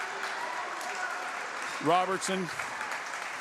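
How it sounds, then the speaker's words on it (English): Basketball crowd at a varsity boys high school game applauding three seniors, a steady broad wash of clapping throughout with an announcer's voice speaking briefly over it. "The three seniors getting a round of applause for Blue Line faithful."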